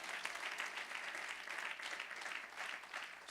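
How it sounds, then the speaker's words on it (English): A church congregation claps in a warm, continuous round of applause, fairly soft and even throughout with gentle swells in intensity. "Let's give the Lord a round of applause."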